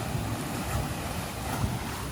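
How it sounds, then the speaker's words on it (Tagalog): A waterfall on Madeira Island sends up a continuous broadband rush of falling water, loud and steady with no break, with no voices. "Waterfalls."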